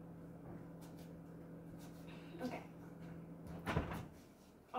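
A cupboard door in a kitchen being opened, a couple of soft knocks and a louder clack near the end, heard close and quiet over a low steady hum.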